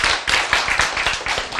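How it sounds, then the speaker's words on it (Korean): Audience applause in a lecture hall, a dense, steady wash of many hands clapping close by for the whole moment, with no voices over it. "박수."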